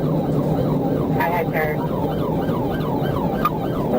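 Police sirens wail in a rapid rising-and-falling yelp that repeats steadily through a high-speed highway chase, with road and engine noise underneath and a brief spoken voice over them.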